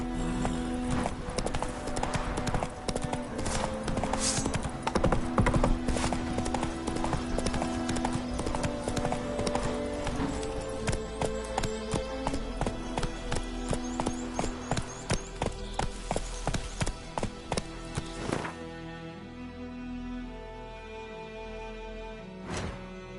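Rhythmic clip-clop of the horse Roach's hooves galloping and then slowing to a walk in The Witcher 3, close and steady over game music and ambience.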